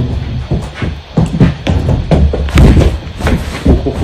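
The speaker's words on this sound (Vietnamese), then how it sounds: "Những tiếng bước chân chạy thình thịch luôn vang ra quanh Dennis." Heavy running footsteps thump repeatedly around a person, a steady stream of loud, close, irregular thuds and shuffles with no talk.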